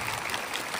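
Audience clapping at a motivational school talk, a dense, steady wash of many hands filling the whole short moment at moderate loudness, with no voices on top.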